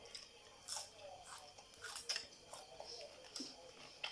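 Close, crisp crunching bites of spicy pounded bitter melon salad with fresh shrimp, soft irregular chews and crackles at low volume with faint murmurs between.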